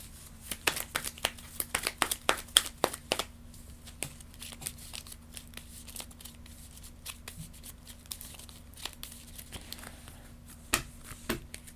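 Cards from the board game Heat: Pedal to the Metal are discarded and drawn at a table, making quiet, close crinkles and sharp papery snaps in irregular clusters with pauses between.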